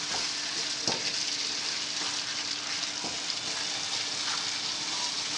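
Chicken and spaghetti simmering together in a pan, a steady close sizzle and bubbling hiss with occasional soft stirring knocks.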